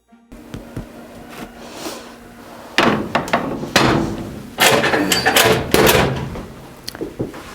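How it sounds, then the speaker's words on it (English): A wood-stove oven door is opened to take out a loaf of Irish soda bread. Loud metallic clanks, knocks and scrapes of the door and pan come up close over a steady background rumble. "It's time to pull the bread out of the oven."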